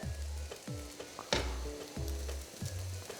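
Carrots are tossed into scrambled eggs in a wok, a soft frying sizzle broken by a sharp clank of the utensil, over a low repeating hum, fairly quiet with no talking.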